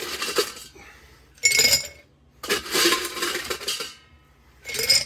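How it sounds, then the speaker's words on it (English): Ice cubes rattle and clink into a glass in three bright bursts while a Dark 'n' Stormy cocktail is built, loud and close, with quiet gaps between scoops. "First thing we need is some fresh ice in our glass."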